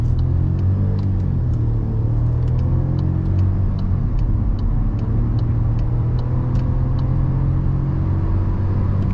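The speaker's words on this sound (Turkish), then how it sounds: "Evet şu an S konumu aldık ve kalkış yapacağız." A 2021 VW Golf 8 with a 1.0 eTSI 110 hp engine accelerates hard from a standstill in S mode toward 100 km/h, giving a loud, steady engine drone with a low rumble that rises gradually throughout, and no voices.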